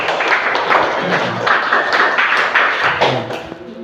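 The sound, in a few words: class applause after a presentation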